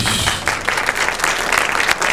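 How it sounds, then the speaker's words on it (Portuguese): A church congregation applauds for a short burst, dense clapping holding at a steady, fairly loud level throughout. "Pode aplaudir Jesus"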